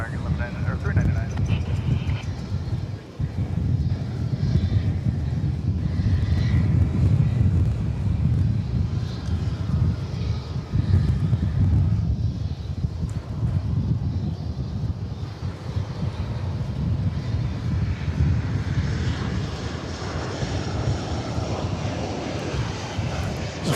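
A plane arriving at DFW Airport gives a steady, loud low jet rumble with wind noise, sustained across the whole stretch while a voice talks over it.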